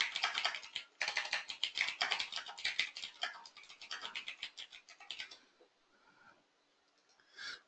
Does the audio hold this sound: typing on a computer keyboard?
yes